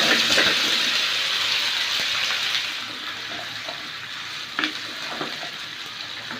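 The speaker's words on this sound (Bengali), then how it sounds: "কিছুক্ষণ নেড়ে চেড়ে এখন আমি বড়ইটা ঢেলে দিচ্ছি" Plums frying in a pan with garlic paste, a loud hiss of sizzling oil that eases slightly as it goes, broken by a few scraping stirs and knocks of the spoon, no talking.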